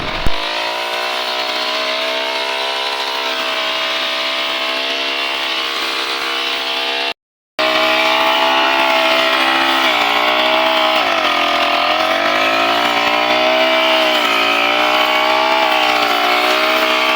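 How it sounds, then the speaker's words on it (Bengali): A motorized grass-cutting machine mowing grass, its engine droning loud and steady close by with slight pitch dips as it works, running without pause apart from one brief break. "কত সুন্দরভাবে ঘাসগুলো কাটা যাচ্ছে এই মেশিনটি দিয়ে"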